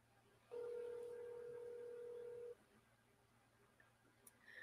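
A single steady electronic ringback tone sounds on a phone call, a clear sustained beep lasting about two seconds over faint line hiss, with no voices.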